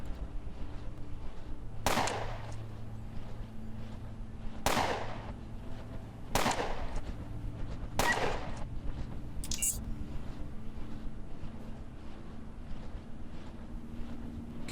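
Aimed gunshots at a rat hound in the game Underrail: four sharp, loud shots spaced about two seconds apart over a low steady hum, followed by a brief high click.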